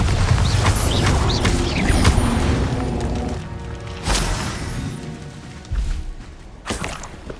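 A Bombarda blasting spell goes off in Hogwarts Legacy as a sharp booming crash at about four seconds, set amid a dense bed of game combat effects, thuds and whooshes, with further impacts near six and a half seconds.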